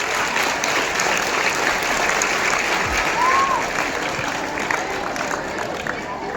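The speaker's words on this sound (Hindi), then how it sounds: "एक बार संजय जी के लिए जोरदार ताली बजाओ।" Audience applause at a school gathering, a dense, steady wash of clapping from a large crowd that holds at a constant level for several seconds, with voices mixed in.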